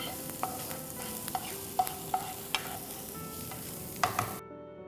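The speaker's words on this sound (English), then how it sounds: "So let's go in and add some chopped onions." Chopped onions sizzling in a pan while a spoon stirs them, soft steady frying hiss with repeated light scraping clinks against the pan, moderately close and without any voice.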